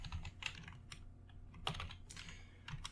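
Keys clatter steadily on a computer keyboard as someone types a Python print statement, close and fairly quiet, a run of quick overlapping clicks with a couple of sharper taps and no one speaking.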